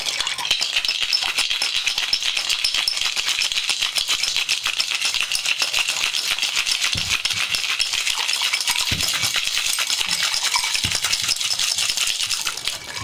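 Ice rattles steadily as a cocktail is stirred for a Spanish Bee or Sarita drink, a continuous close clinking and jangling that runs through the whole stretch with no talk.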